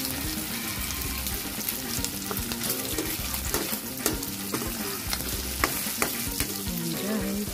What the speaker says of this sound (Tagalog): Ipa-brown lang natin ng kaunti ang ating taba.